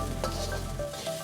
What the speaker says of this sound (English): Quickly stir around and infuse the flavored oil into the rice for about 10 to 15 seconds